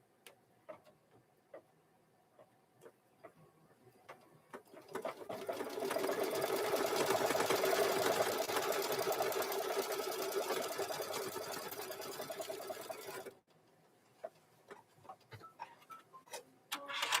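Sewing machine stitching an applique onto a hoodie, a fast continuous run of several seconds in the middle, framed by quiet stretches of sparse clicks and handling taps.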